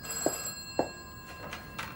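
A telephone rings with two short, separate bell trills about half a second apart, followed by fainter, brighter chirps, fairly quiet against a low background.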